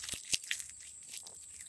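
Damp, slightly leathery bird cherry leaves crunch and crackle as a hand crumples them. A few sharp close snaps come first, followed by softer, scattered rustling.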